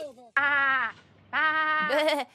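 A woman mockingly imitates sheep bleating at a masked shopper: two loud, wavering voiced bleats, each about half a second long, with a short vocal onset before the first.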